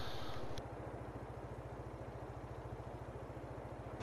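A tractor engine idles in Farming Simulator 22, a low, even, rapid chugging pulse that holds steady throughout, faint and close, with a brief click near the start.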